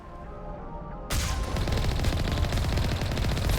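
Cannon fire in the video game Mass Effect starts abruptly after a quiet second and becomes a dense, continuous rattle of rapid shots and booms that stays loud to the end.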